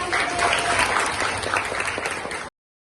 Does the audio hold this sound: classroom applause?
yes